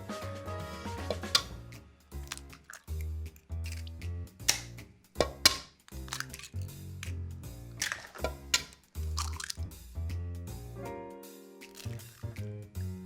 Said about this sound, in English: First component that goes in, eggs. We're just gonna crack these in there.